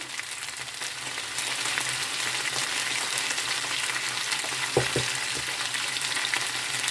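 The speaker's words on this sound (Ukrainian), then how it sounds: "ось картопля почала підсмажуватися вже" Potatoes frying in a pan for a vegetable stew, a dense, even sizzle that holds steady throughout with a couple of brief stirring scrapes near the end.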